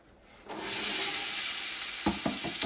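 Chopped garlic and onion hit hot oil in a soup pot and break into a loud, steady sizzle, with a few stirring knocks near the end and no talking.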